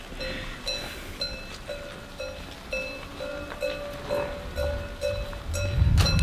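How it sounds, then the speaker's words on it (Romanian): Cowbells on a large herd of cows returning from pasture to a village in Viscri, Romania. The bells clank in repeated rhythmic tones, with hoof sounds and a low rumble rising near the end. "Noroc am auzit tălângile lor din curte, altfel nu ne-am fi dat seama."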